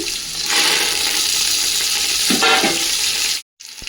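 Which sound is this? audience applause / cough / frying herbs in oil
frying herbs in oil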